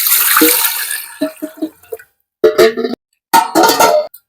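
Water is poured in several short splashing bursts with brief pauses between them, close and fairly loud, onto white kanthari chillies.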